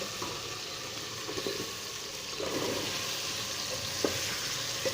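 Potatoes being fried in a spice tempering for potato pulao, with a steady close sizzle and occasional stirring scrapes and clinks.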